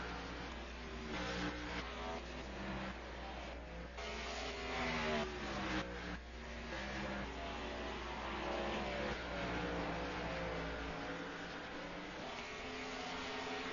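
Late model race cars roar around Bristol Motor Speedway during a USAC National Late Model Series race, engines droning at a distance with rising and falling pitch as the field passes.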